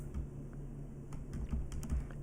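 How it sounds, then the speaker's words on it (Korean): Light keyboard taps as computer arrow keys are pressed while moving a graph in Tracker motion-analysis software, a few soft, sparse clicks over a quiet steady background hum. "키보드 방향키 갖다가 이렇게 움직일 수도 있습니다."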